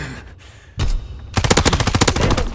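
An M1928 submachine gun fires in Call of Duty: WWII: a single loud blast, a short gap, then a sustained rapid automatic burst of closely spaced shots at close range.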